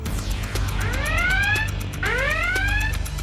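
A loud electronic alarm wails with rising and falling sweeping tones, repeating twice over a steady background hum.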